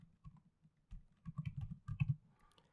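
Someone types on a computer keyboard close by, a short burst of soft key clicks that quickens and grows denser toward the end, with no talking.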